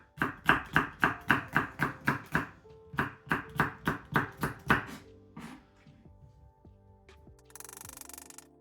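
A knife chops a large red pepper on a board in quick, steady, close-up strokes, a fast run of about a dozen cuts, a brief pause, another burst of cuts, then quieter handling.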